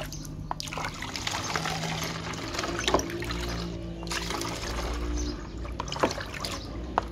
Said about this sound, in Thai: จากนั้นก็กรอกใส่ขวดเหมือนเดิมได้เลยค่ะ